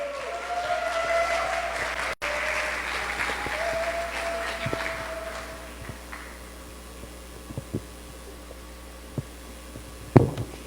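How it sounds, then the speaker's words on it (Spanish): A church congregation applauds loudly at first, then the clapping thins out and fades into scattered claps and thuds over a low room hum. "Damos un fuerte aplauso a Dios por la vida de nuestra amiga Judith Infante"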